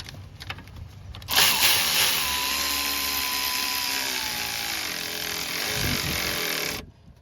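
Power tool whirring steadily close up while the alternator belt tensioner is tightened on a 2002–2006 Toyota Camry V6, a loud sustained buzz starting abruptly, holding for about five seconds, then cutting off.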